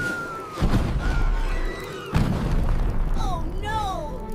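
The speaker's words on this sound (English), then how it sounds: "a massive explosion sends the trio flying" An animated rescue flare explodes in two heavy booming blasts about a second and a half apart, loud and close, with rumbling debris and high squeaky voices and whistling sweeps around them.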